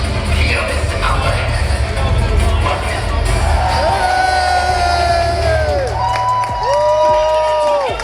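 A large crowd at a live sumo wrestling event cheers and whoops loudly in a continuous roar, with rising yells and bellows swelling over the din.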